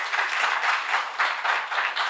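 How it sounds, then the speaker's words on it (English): An audience at a university debate claps steadily, a dense wash of many hands filling the hall at an even, moderate level from start to finish with no voices over it. "You might want to wait till I'm done before you clap"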